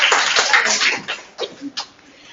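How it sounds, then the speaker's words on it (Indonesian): Classroom applause for a student group, a burst of clapping at the start that thins into a few scattered claps, with light chuckling and voices mixed in. "kita beri tepuk tangan dulu buat kelompok 5"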